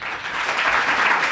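Applause from an audience at a naat poetry gathering in Gujranwala, greeting an honored guest officer: dense, steady clapping held close and loud for its whole brief span, without voices over it.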